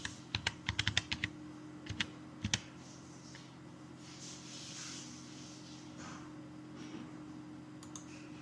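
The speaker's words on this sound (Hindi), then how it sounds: "यहाँ से हम वी लुकअप टाइप कर लेते हैं" Keys on a computer keyboard tapped in a quick cluster of clicks, then a few scattered keystrokes, while entering an Excel VLOOKUP formula; close and crisp over a steady low hum, with no one speaking.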